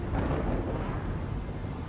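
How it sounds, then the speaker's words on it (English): Heavy thunderstorm at sea, a deep rumbling roar of thunder and wind, loud and continuous for a couple of seconds. "Just past Crete, it gets into a heavy storm."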